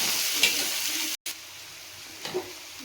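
Onions frying in a pan for a Bengali cabbage mash, a steady close sizzle and crackle broken by a brief dropout, with faint stirring knocks near the end.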